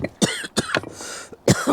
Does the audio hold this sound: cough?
yes